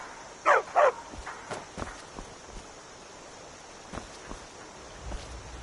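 Dog barking in Skyrim, two quick close barks near the start followed by soft rustling and faint footsteps in a quiet game scene.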